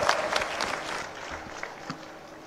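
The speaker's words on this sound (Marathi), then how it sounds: "सगळ्यांनी टाळ्या वाजवून स्वागत कराव." Scattered audience applause at a gratitude ceremony in Killari, fairly soft and thinning out over a couple of seconds, with a few sharper claps standing out.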